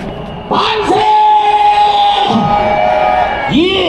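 Loud crowd on a Seoul street outdoors, many voices shouting and cheering together in a sustained roar that swells after the first half second and keeps going, with individual yells rising above the mass.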